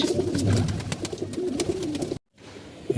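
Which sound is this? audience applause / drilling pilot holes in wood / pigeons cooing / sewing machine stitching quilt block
pigeons cooing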